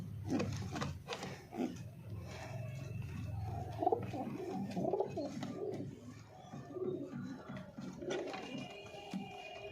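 Young domestic pigeon chicks coo in a home loft, soft repeated low burbling calls close by, overlapping in an irregular rhythm with occasional rustling.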